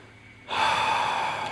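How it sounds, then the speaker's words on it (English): A single exasperated gasp, close and breathy, bursts in after a short quiet and holds as a sustained airy exhale during Splinter Cell Conviction co-op play. "Exasperated gasp."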